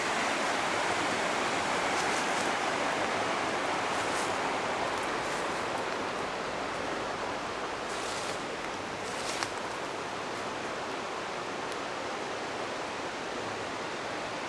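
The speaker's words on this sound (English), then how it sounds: "There's Laurel Creek." Laurel Creek rushing past the remains of the Greenwood Mining Co. at the old Brownwood coal camp in Fayette County: a steady, close, broadband wash of flowing water that runs unbroken and without voices throughout.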